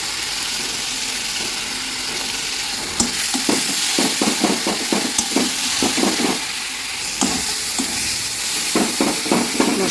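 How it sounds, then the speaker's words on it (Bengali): A spice mixture sizzles loudly in a pan with a constant frying hiss. Over it comes a run of rhythmic stirring scrapes and knocks against the pan. "মশলা ভাজি হয়ে গেছে"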